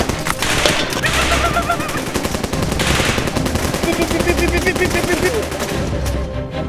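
Rapid bursts of gunfire crackle loud and close in a Thai comedy skit, sustained repeated shots running through most of the stretch, with voices talking over and between them.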